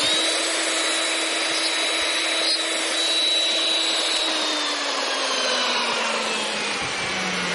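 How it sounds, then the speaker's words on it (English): A steady, continuous power-tool whine runs throughout, like a drill boring a hole, close and fairly loud with a slight downward drift in pitch near the end, during hand router work. "I'm going to drill a hole."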